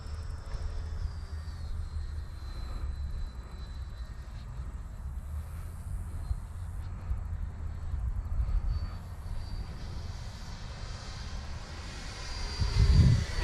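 A Freewing F-4 Phantom RC jet flies on its maiden flight, giving a steady, fairly faint whooshing hum with a low rumble that rises briefly near the end, heard alone without voices.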